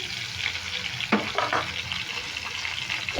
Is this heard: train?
no